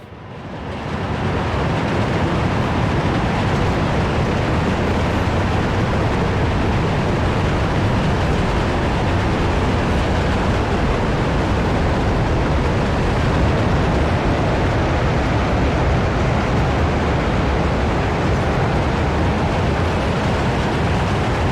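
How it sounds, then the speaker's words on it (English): A hopper freight train rolls past in the city-building game Workers & Resources: Soviet Republic, a steady, dense rumble that holds at a constant loud level for the whole stretch with no talk over it. "That's an impressive hopper train we have."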